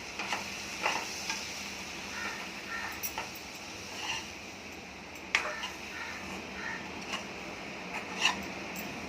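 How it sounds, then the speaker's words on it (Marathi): Chopped capsicum and flour are stirred in a pan, giving scraping, clicking spoon strokes over a low steady sizzle, fairly quiet and up close. "आता एक पीठ याच्यात टाकायचं आहे आणि व्यवस्थित मिक्स करून घ्यायचं आहे"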